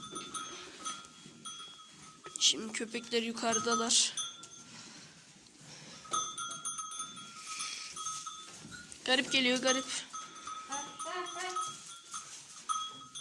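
Sheep bleat several times in wavering calls, some close and loud, while a cowbell clanks and someone speaks in between.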